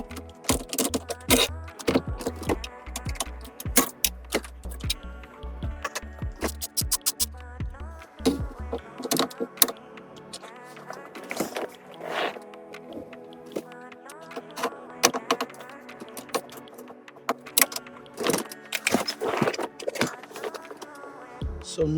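Metallic clicks, jangles and ratchet-like taps from work on a GM Buick ignition lock cylinder, with a bolt being loosened and removed; close, irregular bursts of small metal sounds continue throughout, and no one speaks.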